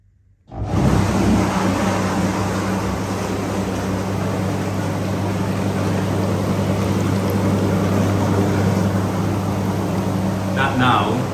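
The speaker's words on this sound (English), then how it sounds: "There isn't dedicated air jets, they're water and air jets with a dedicated blower" A whirlpool bathtub, the Omnitub Pro deep soaking model, switches on at its lowest setting, and its water and air jets and dedicated blower quickly rise into a loud, steady hum and rush. The sound holds constant and close to the end.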